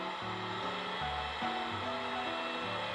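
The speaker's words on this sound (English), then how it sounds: "I'm going to use my heat gun" A heat gun blows on the edges of Worbla thermoplastic: a steady, close, rushing airflow hiss with a droning motor hum whose pitch wavers throughout.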